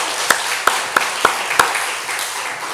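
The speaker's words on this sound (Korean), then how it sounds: "하나님께 영광 박수 돌려드리겠습니다." A church congregation claps in praise during a worship service, five sharp, evenly spaced claps over a soft room background.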